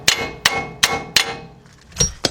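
Sharp metallic strikes on a wheel lug nut of a 2006 Kia Sorento 4WD during front wheel stud replacement, four evenly spaced clanging hits followed by two more after a short pause, loud and close.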